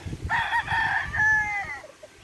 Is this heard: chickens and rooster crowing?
yes